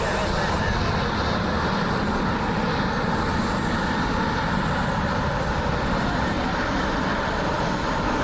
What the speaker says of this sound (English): Southwest 737 MAX.